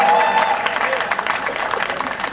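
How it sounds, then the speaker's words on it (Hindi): Audience at a Hindi comic poetry recital breaking into loud applause, a dense crowd clapping steadily and close, with scattered voices underneath. "तालियां बजा दी है जोरदार"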